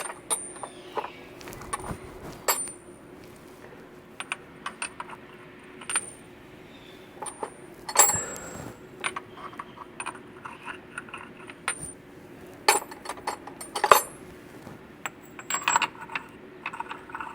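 Metal wrench sockets clink and tap against one another and against a large bolt during a car repair, a scattered series of light, close metallic clicks and jingles with short pauses, with no talking.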